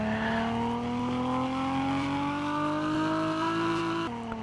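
A BMW M4 engine in the Roblox game Fix it Up revs on a dyno, its tone climbing steadily in one long sustained pull before dropping off abruptly near the end, loud and alone.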